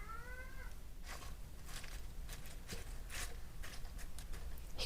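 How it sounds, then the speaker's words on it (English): A pet cat gives one clear, close meow at the start, followed by scattered crunching and clattering noises nearby. "He goes outside in the little cat kennel and just meows and meows and meows."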